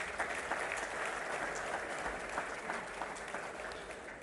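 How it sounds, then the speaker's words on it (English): An audience claps continuously for the IOA staff at a ceremony honouring sports medal winners, a full, even round of applause held at steady volume throughout. "I think they also deserve a round of applause."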